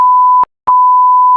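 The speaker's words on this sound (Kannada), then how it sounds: "ಬೀಪ್ ಹಾಕ್ಬೇಕಂದ" Sharp electronic censor beeps, a steady pure tone cut into two long bursts with a short gap between them, loud and alone with no talk.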